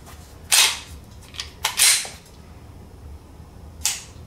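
A Walther PPQ SC subcompact pistol's trigger breaks with sharp, crisp clicks after a 2,000-round test: three distinct snaps, two close together and one alone near the end, with no talk.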